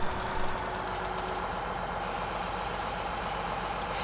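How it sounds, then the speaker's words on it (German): A combine harvester engine idling in Farming Simulator 17, a steady mid-pitched diesel rumble that drones on evenly throughout, close and alone. "Aber er hat den Mähdrescher laufen lassen."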